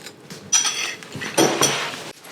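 Cutlery clinks and scrapes against a dish while eating leftover ground beef and broccoli stir fry with sriracha, several close, irregular metallic taps and scrapes over about two seconds, no talking.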